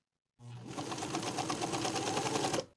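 A sewing machine basts a facing along the curved neckline of a sweater, a close, steady mechanical whir with fast rhythmic needle ticking that starts abruptly and stops after about two seconds.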